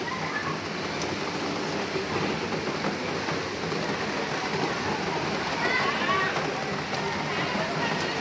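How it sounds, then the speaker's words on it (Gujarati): Rain falling with gusting wind, a continuous broadband wash of steady patter and rush that swells slightly in places, with no one talking. "પવન સાથે વરસાદ આવે છે અને પાછો જતો રહે છે પવનના લીધે"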